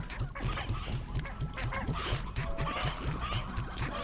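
Hens in the Slime Rancher game cluck and honk in a fast, regular series of repeated calls that sounds busy and close.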